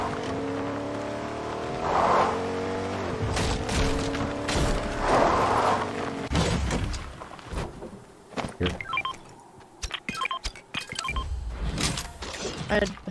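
A car drives in Fortnite, its engine revving and roaring in rising surges with thuds and clatter, while players talk over it.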